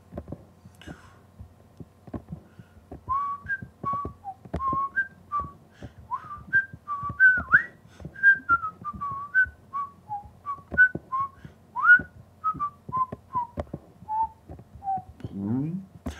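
A person whistles a melodic tune in short separate notes, close and clear, with soft thumps and rustles in the background.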